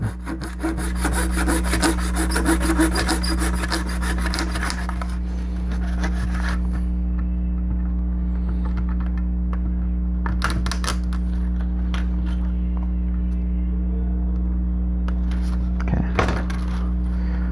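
Steady back-and-forth sawing through a plastic model part close by, loud and rhythmic for several seconds, then easing into quieter intermittent strokes over a constant electrical hum.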